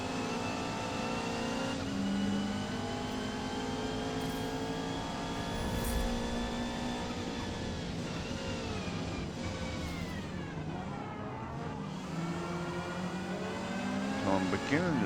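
Race cars at Catalunya in Forza Motorsport, including a Ferrari and a Subaru Levorg GT, roar continuously with rising and falling revs across gear changes. Someone talks over the engines throughout.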